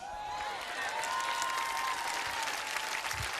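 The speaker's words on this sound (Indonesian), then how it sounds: "Boleh tepuk tangan buat Tuhan Yesus" Church congregation applauding during a Sunday service: sustained, even clapping from a large crowd, with a faint voice or cheer drifting over it.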